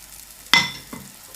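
Batter ladled onto a pan over a medium gas flame gives one sudden close sizzling splash that quickly fades, followed by a smaller second hiss.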